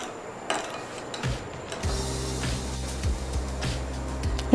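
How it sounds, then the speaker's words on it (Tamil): A paste of chili powder, jaggery and water being mixed in a bowl for brinjal gravy, heard as soft close scraping and rubbing strokes over a steady low background hum. "இது எல்லாத்தையும் நல்லா மிக்ஸ் பண்ணிடலாம்"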